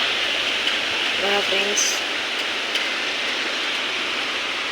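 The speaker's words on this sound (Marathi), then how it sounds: "आता मुंबईमध्ये खूप पाऊस पडलेला आहे" Heavy rain pours steadily in Mumbai, a dense, even hiss that fills the whole clip, with someone briefly speaking over it.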